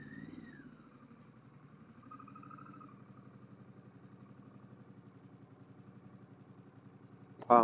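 A Harley-Davidson Pan America motorcycle with an aftermarket exhaust idles in a low, even, pulsing throb, faint and steady, ending with a sudden louder burst.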